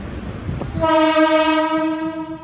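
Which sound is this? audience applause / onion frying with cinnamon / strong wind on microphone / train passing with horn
train passing with horn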